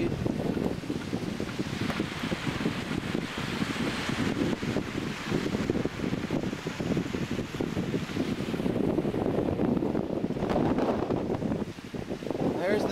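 Strong wind buffets a Lynx vertical-axis wind turbine outdoors, a loud continuous roar with gusting rumble and microphone wind noise for the whole stretch.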